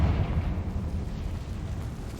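A Confringo explosion spell goes off in Hogwarts Legacy as a low, rumbling blast whose boom rolls on and decays steadily over a couple of seconds, with no speech over it.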